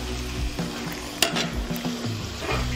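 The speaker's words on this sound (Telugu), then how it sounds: "కొంచెం బ్రౌనిష్ కలర్ వచ్చేంత వరకు మనం ఈ ఆనియన్స్ని గ్రీన్ చిల్లీని వేయించుకోవాలండి" Onions and green chillies frying in a pan for a tamarind fish curry, a close, steady sizzle with quick scraping clicks from stirring and one sharp knock.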